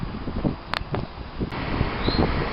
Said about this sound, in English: I didn't realise how windy it was going to be today